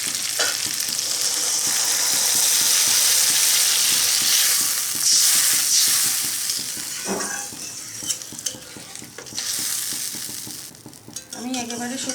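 Frying potato poppy seed curry with shrimp sizzles loudly with stirring scrapes, and the sizzle surges when water is added, then settles into a quieter bubbling with occasional clinks of a utensil.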